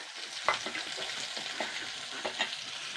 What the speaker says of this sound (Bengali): এবার আমি মাছ ভাজার তেলে একখানা বড় সাইজে পেঁয়াজ কুচানো দিয়ে দিচ্ছি।